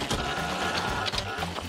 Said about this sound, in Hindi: क्या मैं बढ़िया छोटा प्रिंटर इस्तेमाल करूं?